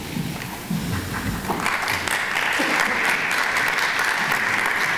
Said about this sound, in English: Please hold your applause until all inductees have been recognized